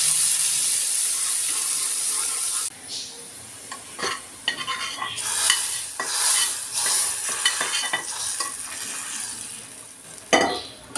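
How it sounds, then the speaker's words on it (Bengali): Chopped onion and garlic dropped into hot oil in a frying pan for a dal tempering: a loud steady sizzle that drops suddenly, then crackles on with bursts of stirring and spoon scrapes. "আমি ফ্রাই প্যানে তেল দিয়ে দিয়েছি, আর এখন পেঁয়াজ আর রসুন কুচি দিয়ে দিলাম"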